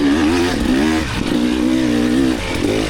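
A 300 dirt bike engine revs hard while climbing a hill during an off-road race, a loud close continuous buzzing drone that rises and dips slightly in pitch with throttle changes.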